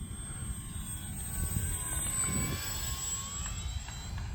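A radio-controlled F4U-4 Corsair model plane flies low, its steady engine whine holding with a slight pitch shift as it gathers speed into a turn over constant wind rumble.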